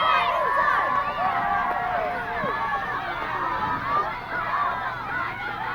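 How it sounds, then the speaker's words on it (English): Sideline crowd at a 2004 college women's ultimate frisbee semifinal between UC San Diego and UC Davis: a continuous wash of shouting and cheering voices, dense and lively throughout with no pause. "Early on, already a lot of cheering on the sideline."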